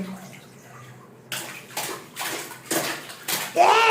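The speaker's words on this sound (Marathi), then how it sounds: "माझ्या अंगावर उडतंय पाणी." Bath water splashes in a series of loud bursts, each surge rising in volume, following a quieter opening stretch with a faint voice.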